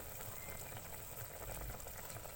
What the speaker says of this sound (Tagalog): Ayan, kumukulo na po siya